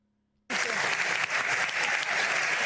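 An audience at a live university debate bursts into loud, sustained applause after a brief quiet moment, many hands clapping densely and steadily.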